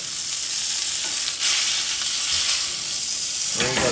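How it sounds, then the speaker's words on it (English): Steady, loud sizzling of venison pan frying for jerky in a hot pan, a continuous crackling hiss with a brief louder flare partway through. "So basically, I'm just pan frying it like this."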